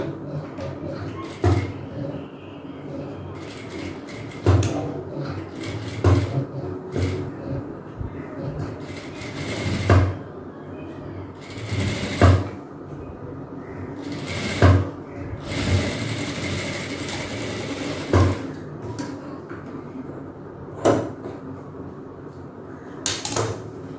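A sewing machine stitches an umbrella frock in several short whirring runs with pauses and clicks between them, heard up close in a tailoring session.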